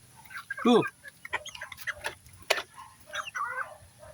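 Hens clucking nearby, a string of short, irregular clucks and squawks with quiet pauses between them, one louder call standing out near the start.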